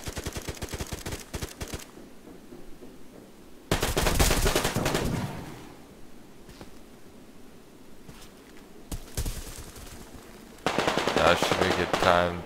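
Gunfire from the Survarium video game comes in loud, rapid automatic bursts separated by quieter gaps, with a final sustained burst at the end.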